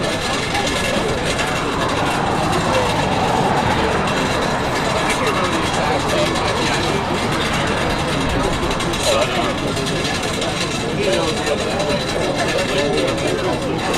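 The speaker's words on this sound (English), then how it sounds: "Obviously you guys can hear the CRJ engine clanking around over here." A CRJ regional jet on final approach at Raleigh-Durham International Airport gives a loud, continuous broadband engine roar with a slow swell and fade as it passes nearby, steady throughout.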